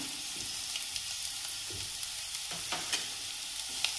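Cabbage and spring onion sautéing on high flame, a steady sizzle with scraping stirs and occasional clinks from a spoon against the pan, fairly close and alone.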